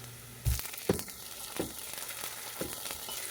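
Chopped tomatoes are sautéed in a pan with softened onions, giving a soft, steady sizzle broken by a few clinking stirs of a utensil, with no voices.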